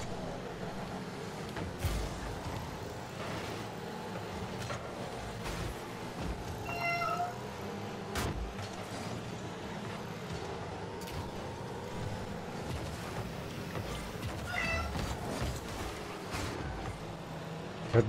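A hungry cat meows repeatedly over a low steady rumble of game engine and car noise, the meows moderately close and spaced out across the stretch.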